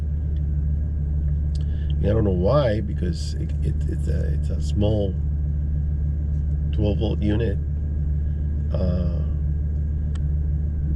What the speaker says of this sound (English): the truck hasn't been run since I came from the hunting trip, and that's why I'm starting it now